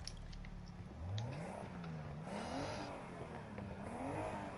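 A car's unmodified engine revs through its loud exhaust, the pitch sweeping up and down in several smooth rises and falls at a steady moderate distance, with no talking.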